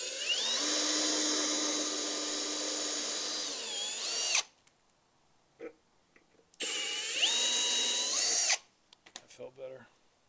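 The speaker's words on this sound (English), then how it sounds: "Now we can drill these." A power drill bores into a wooden step stool being built for a Pierce Arrow Travelodge trailer, two loud whining bursts that rise and fall in pitch, separated by quiet pauses with faint handling clicks.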